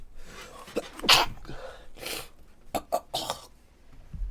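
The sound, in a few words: violent sneeze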